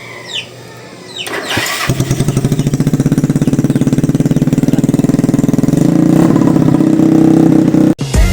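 A Yamaha Mio scooter engine, fitted with a spark plug retreaded to oversize, cranks and catches at about two seconds, then runs steadily with a loud, even idling putter that rises a little near the end before cutting off.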